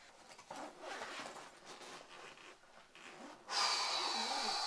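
A zipper on a guitar gig bag is pulled open in a long scratchy run of rasping, ending in a sharper, brighter stretch as the slider speeds up, close and fairly quiet with no talking.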